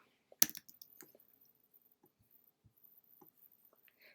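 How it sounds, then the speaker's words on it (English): Soft, sparse clicks of a computer keyboard, one sharper tap near the start and then irregular quiet taps over near silence. "I keep adjusting my brush size on my keyboard. That's what all the clicking you hear."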